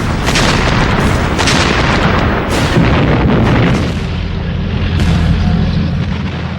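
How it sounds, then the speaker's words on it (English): Heavy artillery pounding a building at point-blank range in a World War II urban battle, a dense, continuous barrage of loud booms and blasts with no pauses, rumbling low and heavy throughout. "So they blasted the building at point-blank range with heavy artillery."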